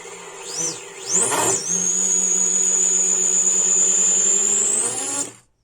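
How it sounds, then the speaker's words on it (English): A small 3-inch freestyle quadcopter motor spins up with a rising whine that settles into a steady high-pitched hum for several seconds, close and loud, before cutting off. "the motor is spinning in the right direction"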